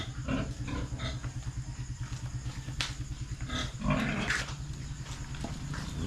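Pigs grunt and squeal during a pig slaughter at dawn, with repeated rhythmic grunting, a few sharper squeals rising above it, and a low steady background hum.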